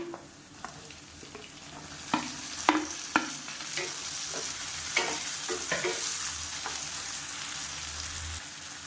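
Finely chopped ripe tomatoes fry in a pan for a tomato curry, a continuous sizzle broken by several sharp scrapes and clacks of a stirring spoon against the pan, close and loud, with no voices.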